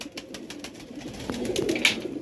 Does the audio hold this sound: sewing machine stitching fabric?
no